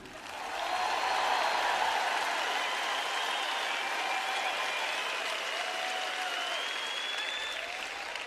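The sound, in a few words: audience applause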